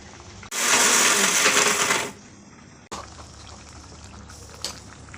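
A kitchen mixer whirs loudly for about a second and a half while grinding dried chillies, coconut and fennel, then stops abruptly, followed by a clunk and faint rattling.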